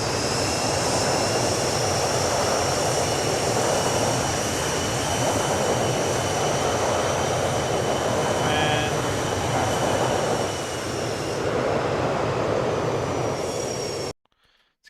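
Airliner engines roar in reverse thrust in the X-Plane 12 flight simulator, a loud continuous broadband rumble with a steady high whine that holds for about fourteen seconds before cutting off abruptly.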